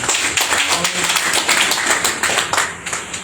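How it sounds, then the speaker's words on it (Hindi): Audience clapping for guests at a Hindi-language program, a dense wash of hands close by and steady for a few seconds, with some talk mixed in beneath it. "सभी के लिए जोरदार तालियां हो जानी चाहिए"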